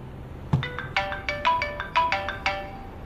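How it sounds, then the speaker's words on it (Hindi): A mobile phone ringtone rings out as a bright, repeating electronic melody of short tonal bursts, fairly close and clear, following a brief knock-like thump. "तुम्हारा फोन बज रहा है।"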